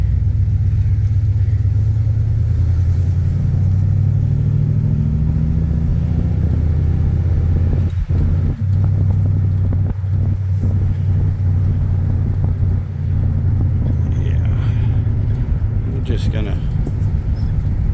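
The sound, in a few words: 1992 Mercedes W250 driving and shifting gears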